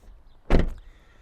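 The front door of a 2025 Dacia Jogger shuts once with a single solid thud up close, then fades into quiet.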